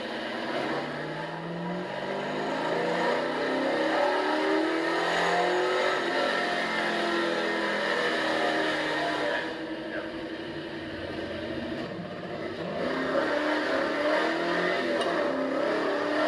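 Car engine with an Edelbrock carburetor pulling steadily under load during a roll-on, a continuous droning rumble with rising tones heard from inside the car, without talking.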